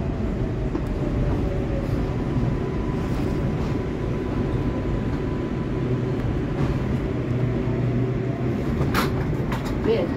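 NYC subway R142A 4 train on the Lexington Avenue Line, Manhattan-bound, a loud steady rumble and roar of the car in motion with faint squeals and occasional rattles throughout.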